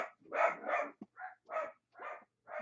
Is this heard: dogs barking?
yes